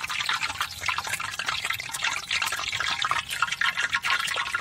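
Cashew nuts fry in hot oil for a laddu, giving a dense, steady crackling sizzle close by with rapid, irregular pops and no voices.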